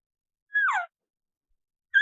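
A person imitates an elk cow call by mouth without a diaphragm, giving one short, clipped whistling mew, then a second brief note begins at the very end, with silence in between.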